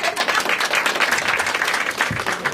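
Audience at a Marathi stand-up comedy show applauding, a steady dense wash of clapping that holds at an even loudness throughout, with a brief low voice near the end.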